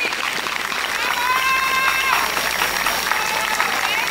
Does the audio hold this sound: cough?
no